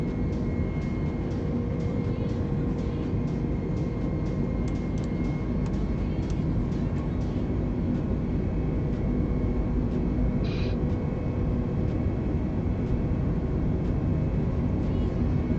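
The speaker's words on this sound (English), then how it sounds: "Okay, ready for takeoff, and" The engine of a light training aircraft runs at takeoff power, a loud, steady drone and roar that continues unbroken throughout, with no talking.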